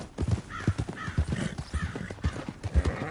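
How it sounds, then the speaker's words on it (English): A horse in the video game Red Dead Redemption 2 trots with steady, close clip-clopping hoof beats, and a whinny rises over the rhythmic footfalls. "Who's a good horse?"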